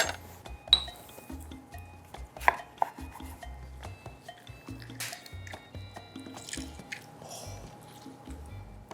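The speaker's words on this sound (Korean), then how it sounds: "레몬즙을 쭉 짜서 넣어볼게요." Lemon being squeezed into a dish of olive oil and garlic, heard as soft close squishes and drips with a few sharp clinks of utensils against a bowl.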